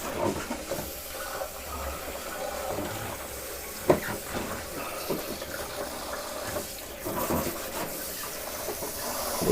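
Water runs in a shower while a vintage Naumann 65 sewing machine is cleaned, a steady hiss of spray broken by occasional knocks and splashes, with no talk.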